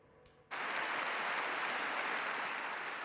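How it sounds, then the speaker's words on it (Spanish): Long, sustained applause from a large audience at the Nobel Peace Prize ceremony in Oslo, starting abruptly after a brief murmur and continuing as a dense, steady roar of clapping. "En medio de un extenso aplauso"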